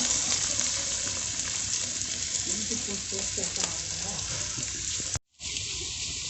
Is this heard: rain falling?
no